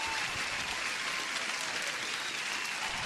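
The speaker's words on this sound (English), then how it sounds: "one more applause to Don Tutton." Steady, dense applause rolls on without a break for about three seconds during a live futures day-trading stream, even in level and fairly quiet, with no talk over it.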